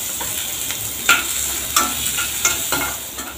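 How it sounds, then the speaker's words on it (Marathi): Finely chopped onion frying in a pan, a steady close sizzle with soft periodic scrapes and taps of a stirring spoon. "इथे छान असा बारीक चिरलेला कांदा फ्राय करून घ्यायचा"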